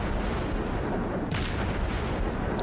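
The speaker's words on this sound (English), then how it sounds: "It looks like that battleship was firing high explosive." A battleship firing high explosive shells in World of Warships produces a continuous heavy, rumbling roar of naval gunfire and impacts, with a sharper crack near the middle, loud and unbroken throughout.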